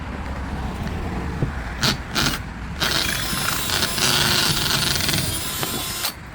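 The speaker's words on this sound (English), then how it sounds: "I'm gonna have to drill it out some more." A power drill whines steadily at close range, with brief stops and restarts as it bites into metal, drilling out a rivet on a riding mower grass catcher handle.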